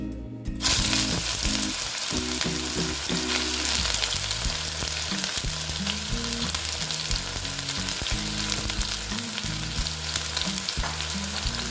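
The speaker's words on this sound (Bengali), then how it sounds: "তেলটা প্রায় গরম হয়ে গেছে এবার আমি এই যে লতিগুলো দিয়ে দিচ্ছি" Taro stolons (kochur loti) drop into hot oil and start frying for a vegetarian dish without onion or garlic; a sudden loud burst of sizzling follows a quiet start and continues steadily, with intermittent stirring sounds.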